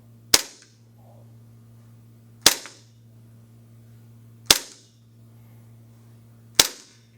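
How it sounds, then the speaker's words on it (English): H&K USP Match gas blowback airsoft pistol by KWA firing four sharp, loud single shots about two seconds apart, each a crisp snap with a short tail over a steady low hum, no talk. "it does look like this gun is shooting a little bit harder than our regular USPs"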